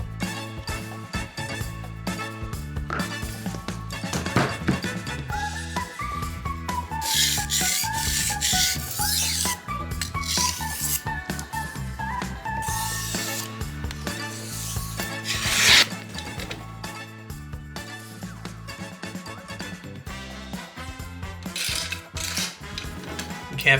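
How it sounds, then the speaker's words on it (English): Kitchen knives are sharpened with repeated close rasping and rubbing strokes of steel against an abrasive surface. The scraping runs steadily throughout, with a few brighter metallic swipes and no talking. "I'm just gonna be sharpening my knives real quick."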